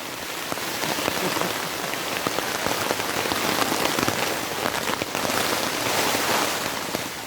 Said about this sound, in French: Ambiance pluie.